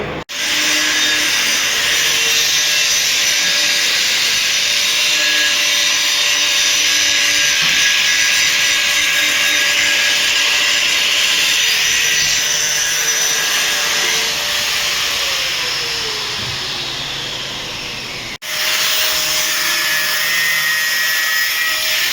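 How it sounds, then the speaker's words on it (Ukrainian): A 380-volt electric generator runs beside a Ford Transit under body repair, giving a loud, steady mechanical drone with a whining hum that holds for about eighteen seconds, cuts out briefly, then resumes just as strong. No one speaks. "Ось генератор працює."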